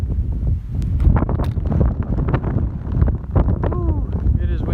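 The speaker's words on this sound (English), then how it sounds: "Ooh, it is windy." Strong wind gusting on an open Appalachian Trail mountainside near White Top Mountain, a loud, steady rushing roar buffeting the microphone throughout, with faint high calls near the end.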